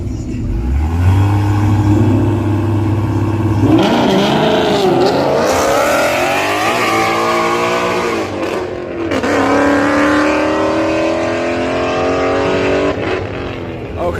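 In a street race a BMW car accelerates hard, its engine note climbing and shifting through gears as it roars loudly throughout, with people talking over it.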